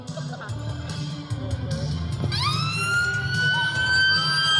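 A fire brigade engine's siren wails as the crew arrives at a road traffic collision demonstration during the Eastbourne 999 Show, the rising and falling tones growing louder and nearer over engine rumble and background crowd chatter.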